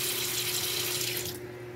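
Steady running water drains from a kitchen sink after it is unclogged with coarse salt and baking soda, a close, even rush that thins out and quiets in the final moments.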